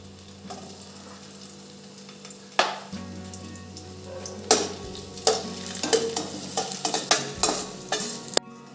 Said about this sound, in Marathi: तुपात मी आता किसमिसही परतवून घेते